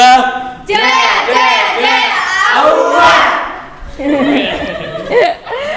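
A small group of students, Group 2, chants their team cheer together in a classroom, loud and close, with rhythmic shouted phrases, a brief pause, then another burst of voices mixed with some laughter.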